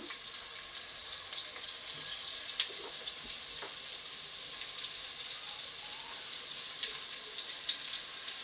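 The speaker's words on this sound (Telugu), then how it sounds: "చేప తల ఎర్రగైతే వేగిందండి నూనె" Fish heads fry in hot oil with a steady, even sizzle and a few soft pops and crackles, close by and moderately quiet, with no talking.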